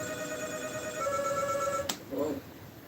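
A telephone rings in a video game, a steady electronic tone held for almost two seconds before a sharp click cuts it off, followed by a brief faint chirp.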